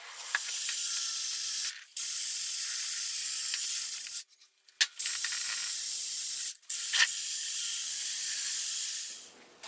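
Aerosol spray paint hisses onto degreased, masked 1973 VW Bus front suspension parts and spindles in long steady bursts, with short pauses between passes and one longer break midway.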